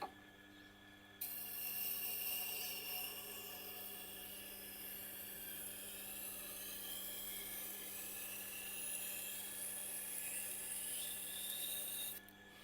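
A knife being sharpened on a Tormek sharpener, a steady, continuous grinding rasp of steel on the stone with a constant machine hum. It starts after a second, runs evenly at close range and stops near the end, with no talking.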